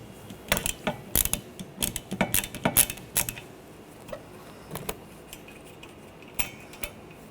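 A 15mm socket wrench ratchets off the wiper arm nut on a 2013-2019 Ford Escape 2.0L, giving bursts of quick metallic clicks in uneven runs, close and clear with no talking.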